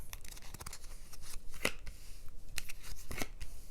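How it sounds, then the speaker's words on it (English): Oracle cards being shuffled by hand, with a run of quick, soft riffling and slapping bursts, close and fairly quiet. "Silly cards, very hard to shuffle."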